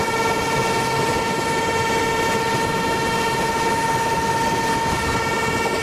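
A freight train hauled by a diesel engine rolls past in the Train Simulator video game, giving a loud, steady, continuous rumble with a droning engine tone and no break.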